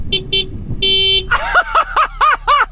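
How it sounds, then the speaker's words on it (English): Two short beeps, then a long steady tone from a Honda Civic Type R horn, followed by a bird-like warbling chirp repeated about six times, loud and close. "let's have the Honda, but it's got a crap horn."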